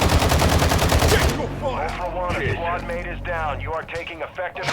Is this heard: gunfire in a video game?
yes